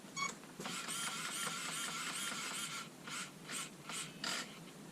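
Steering servo on an HBX 2995 RC desert truck whirs and buzzes close up right after the transmitter is switched on: one long mechanical grinding sweep followed by four short repeated bursts, no talk.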